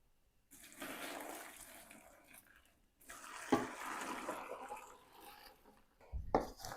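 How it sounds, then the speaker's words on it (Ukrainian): Boiling water pours and splashes over cut eggplant in two bursts, with a short pause between and a clunk near the end. "І тепер баклажани заливаю окропом."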